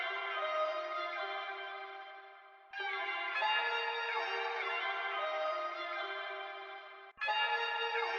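A processed vocal chop sample from a Cymatics kit, drenched in reverb with the dry signal lowered and a thin radio-style EQ, plays as sustained distant tonal phrases in three sections with abrupt cuts.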